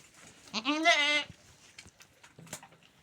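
A goat, a mother with newborn kids, gives one loud close bleat followed by a few faint, short animal sounds.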